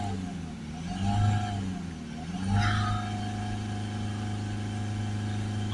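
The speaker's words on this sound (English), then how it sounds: "Just going to give it some revs." A Mercedes C-Class 2.1 diesel with a particle-filter soot fault, idling steadily and revved twice in quick succession, then settling back to a steady close idle drone.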